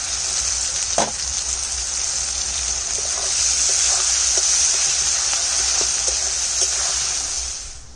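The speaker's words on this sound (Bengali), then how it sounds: "পেঁয়াজটা ভাজা হয়ে গেছে" Steady crackling sizzle of onions frying in hot oil, close and continuous, with a few soft clacks of stirring.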